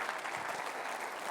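Brief, fairly faint applause from an audience at a stage hypnosis show, a soft, even wash of clapping with no distinct voices.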